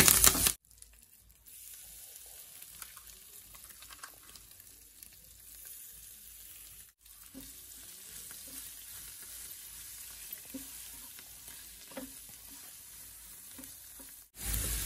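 Curry leaves, cumin, green and dried red chillies, turmeric and asafoetida sizzle steadily in hot oil for beetroot chutney, a continuous crackling fry with occasional soft pops and stirring, fairly close, with no talking.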